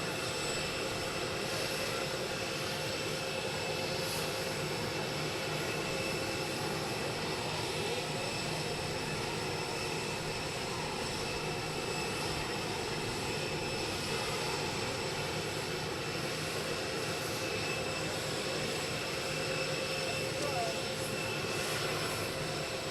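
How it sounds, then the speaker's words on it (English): Air Force One, a large jet aircraft, produces a steady continuous engine roar on the tarmac at Palm Beach International Airport, constant in level throughout with no pauses. "coverage of the arrival of Air Force One here at Palm Beach International Airport"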